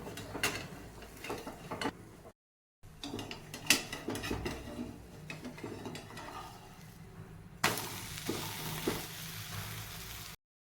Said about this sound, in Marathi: आता धिरड उलटवून घेऊन या साईडने पण भाजून घेऊया